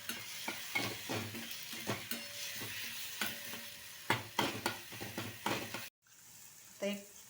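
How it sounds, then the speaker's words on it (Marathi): Ground coriander, turmeric and red chilli powder are stirred into a frying pan for a pea and mushroom curry, giving repeated scraping spoon strokes over a soft sizzle, then a short pause and one last stir. "एक चमचा लाल तिखट ते सर्व मिक्स करून घेऊया"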